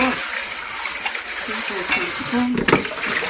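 Cabbage and bellflower root stir-frying in a pan, a steady wet sizzle with faint scraping and stirring noises and a brief clink near the end, while a person talks over it.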